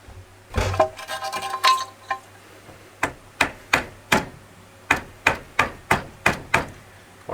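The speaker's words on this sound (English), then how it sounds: "So I'll probably use a soft hammer and just bend it slightly out of the way." A soft hide hammer strikes a hard steel line on a Kawasaki H2SX motorcycle, bending it aside. A loud burst of clatter comes first, then about ten sharp, evenly paced knocks ring close and alone.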